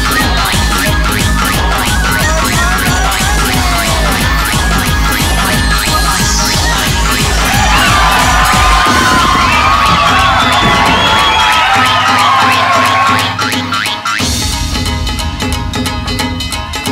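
A loud crowd cheers and whoops continuously over pounding rhythmic music with a steady beat in a rhythm video game, the cheering swelling midway before the music shifts.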